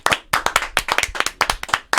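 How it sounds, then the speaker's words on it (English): A few people in a small room clap close to the microphone in quick, uneven bursts, with distinct individual hand claps landing in a loose rhythm over two seconds. "Let's clap again."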